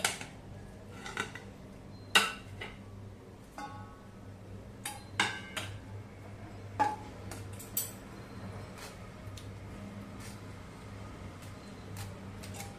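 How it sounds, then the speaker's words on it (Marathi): Pumpkin for Marathi gharge is pressed and mashed fine through a mesh sieve, giving sparse metallic clinks and scrapes over a low steady hum, close and fairly quiet. "मी इथे जाळी घेतलेली, जाळीवरती घालून हा भोपळा आपल्याला बारीक करून घ्यायचा आहे"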